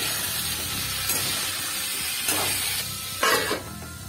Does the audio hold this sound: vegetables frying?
yes